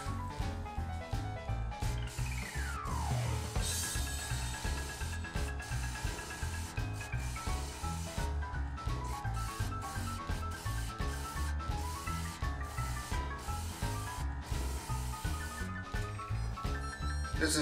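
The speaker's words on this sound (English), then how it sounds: "And now I'm just going to turn this round." A wood lathe turns a faceplate in a workshop, a steady close rubbing and scraping whir that repeats rhythmically throughout, with no one talking.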